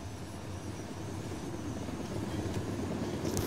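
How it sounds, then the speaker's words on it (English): Military helicopter engine and rotor in a video game operation, a steady loud drone with a deep, churning thump that holds throughout without talk. "Get away from that helicopter."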